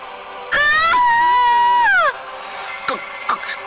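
A woman lets out a loud, sustained high-pitched scream in a cartoon horror story about a witch, lasting about a second and a half before breaking off, with faint scattered sounds afterward.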